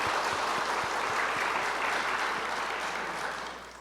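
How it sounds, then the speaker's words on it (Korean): A church congregation breaks into sustained applause, a dense wash of clapping that holds steady for several seconds before tapering off slightly at the end, with no talk over it. "우리 그런 의미에서 우리 하나님께 박수로 영광 돌리겠습니다."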